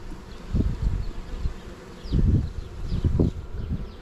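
A steady, close swarm of honeybees buzzing at the hive, a low droning hum that swells and fades in waves, with no voices.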